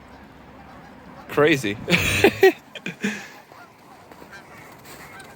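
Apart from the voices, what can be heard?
geese honking by a riverside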